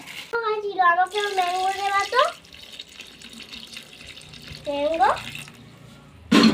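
Water running from a tap into a container for soaking mangoes, a steady close splashing stream with a voice and other talk over it and a brief loud burst at the end.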